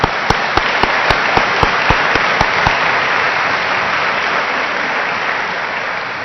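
Applause fills the room at a college athletics senior awards ceremony at Union College, a loud, dense crowd clapping with a few sharp individual claps standing out early before the sound settles into an even roar.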